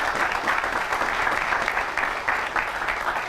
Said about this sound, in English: So let's give them another round of applause here.